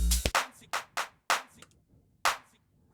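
Clap drum sample with the low end cut, dry and punchy, played alone as six sharp hits in an uneven rhythm with quick decays for music production.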